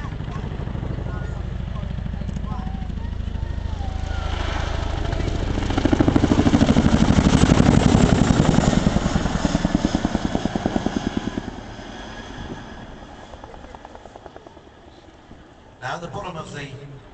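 Chinook heavy lift transport helicopter at the East Fortune air show, a loud rotor drone that swells and peaks midway then eases off, with someone talking over it throughout.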